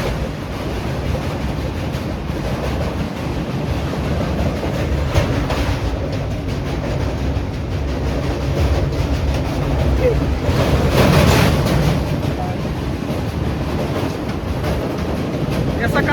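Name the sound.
train crossing the Godavari railway bridge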